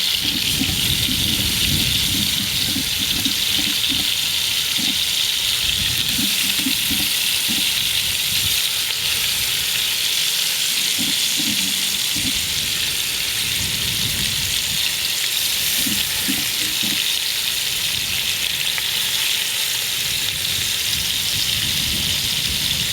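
Short ribs searing in a Dutch oven give a steady, loud hiss and crackle of hot fat that runs unbroken for the whole stretch. Bursts of spattering pop up now and then, with no talking over it.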